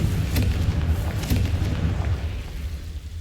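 Confringo blasting spell going off in Hogwarts Legacy, a game explosion with a couple of sharp booming bursts over a dense low rumble, loud and close.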